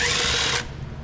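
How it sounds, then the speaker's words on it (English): A power tool whines loudly, spinning out the last bolt on a Massey Harris tractor's oil pan, then cuts off abruptly, leaving a quiet workshop background. "I'm gonna get this last bolt out."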